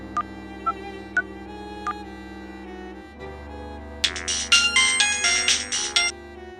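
A phone ringtone goes off during a call in a Hindi film, first as soft scattered beeps over a held musical drone, then a loud rapid burst of bright repeating tones near the end, with no talking.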